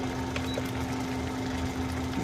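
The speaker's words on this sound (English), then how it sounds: "this noisy fan" A noisy kitchen exhaust fan runs after stovetop cooking of chicken afritada, giving a steady, close whooshing drone with a constant low hum and no talking.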